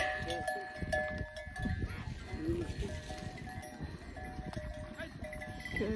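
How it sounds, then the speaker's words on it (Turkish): Village cows grazing in open countryside, cowbells clinking irregularly at a moderate distance among faint rustling and occasional animal sounds, with no clear talk. "Gördüğünüz gibi köyün inekleri arkadaşlar bunlar."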